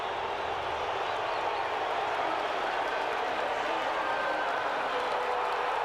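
A loud, packed football stadium crowd at the 1986 Liberty Bowl, Tennessee against Minnesota, roars in a continuous, unbroken wall of noise that holds steady throughout.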